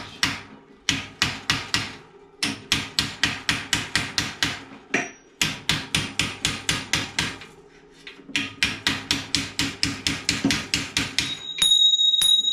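A rusty bearing race on a 1963 Schwinn bicycle is pounded with a hammer, loud sharp metallic blows in quick rhythmic bursts with short pauses, close up, ending with a ringing clatter as it falls.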